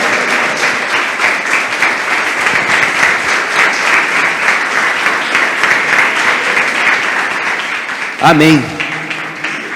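Steady congregational applause from a church crowd at a sermon, dense and continuous hand clapping throughout, with a single voice calling out near the end.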